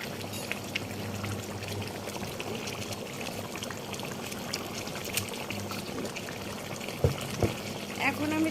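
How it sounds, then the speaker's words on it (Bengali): Ground chili and cumin, fried together and crushed on a stone slab into a paste, goes into raw beef for a home-style Bengali curry; a wet, soft, mushy scraping and plopping, loudest near the end over a steady background hiss. "এখন এই মিশ্রণটি মাংসের মধ্যে দিয়ে দিই।"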